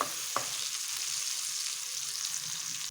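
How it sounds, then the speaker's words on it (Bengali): Eggplant pieces frying lightly in oil, a steady, even hiss of sizzling close by with one brief knock near the start, no voices. "বেগুনগুলোকে একটু হালকা করে ভেজে নিতে হবে"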